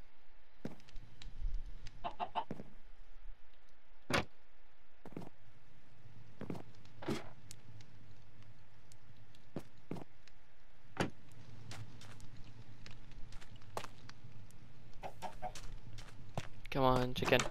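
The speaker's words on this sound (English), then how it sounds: "Come on, chicken." Chickens cluck faintly in short scattered bursts around a house, with footsteps and shuffling, quiet background noise and a sharper run of clucks at the end.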